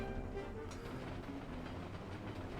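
A Confederate train runs on rails in a Civil War video game, a faint, steady rumbling roll with low repetitive clatter and no talk.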